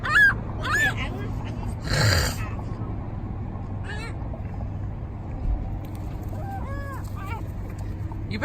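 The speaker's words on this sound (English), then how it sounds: "Seagull fight! Seagull fight!" Seagulls squawk while fighting over French fries outdoors, giving several sharp, rising cries in bursts, close and fairly loud, with people talking nearby and a brief noisy rush partway through.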